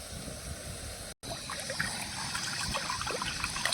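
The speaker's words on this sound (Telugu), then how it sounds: "అందుకు ఒక గిన్నెలో వాటర్ పోసుకున్నాం." Water trickles and pours into a bowl in a kitchen while poha flakes are prepared for soaking, a steady continuous splashing stream with one brief gap near the start and no talking.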